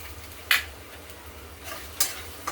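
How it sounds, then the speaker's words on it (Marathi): Masala paste for shev bhaji being sautéed in oil in a pan after the onions have browned: a few faint, brief spatula scrapes at uneven intervals over a quiet background. "वाटण आपल्याला मस्त तेल सुटेपर्यंत परतून घ्यायचं."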